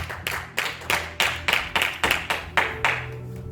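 Church congregation clapping in unison, about eleven loud, evenly spaced rhythmic claps in a steady beat, close and clear with no talking over them.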